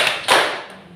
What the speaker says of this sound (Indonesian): Ayo coba kita tepuk-tepuk.